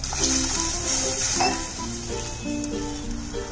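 Koli-style halwa fish curry gravy boiling in a pot, a close, steady bubbling and spitting with a few soft pops and scrapes, no voices.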